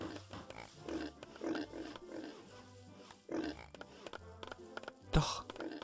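Pigs grunt and snort in the video game Micro Town in short, repeated bursts, fairly close, with a low hum underneath and a sharp knock near the end.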